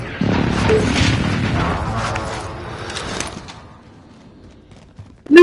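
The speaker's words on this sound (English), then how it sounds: "Friendly position airstrike inbound." Airstrike explosions in Call of Duty: Warzone, with a deep rolling boom that rumbles for several seconds and slowly fades, followed by a sudden loud thud at the very end.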